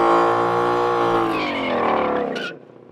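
A 2020 Ford Mustang Shelby GT500 on Michelin Pilot 4S tires launches with launch control, its engine roaring loud and rising in pitch before the sound drops off sharply, with no talk.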